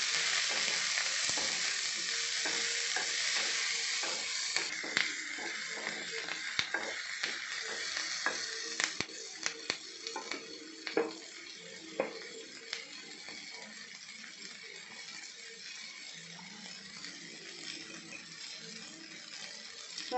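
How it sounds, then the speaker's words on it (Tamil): Onions, tomatoes and curry leaves sizzle and fry steadily in a pan for coriander thuvaiyal, with a spoon stirring and scraping in scattered clicks and taps throughout, close and continuous with no talking. "கருவேப்பிலையும் சேர்த்து அதிலே வதக்கிக்கலாம்."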